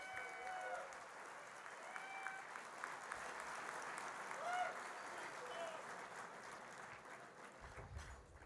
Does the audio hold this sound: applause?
yes